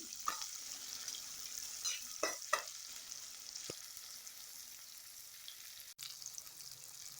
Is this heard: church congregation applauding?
no